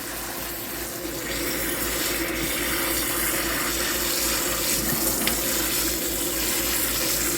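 Cottage cheese rinsed under a running kitchen tap, a steady close hiss of water splashing into a sink, continuous throughout with no talking.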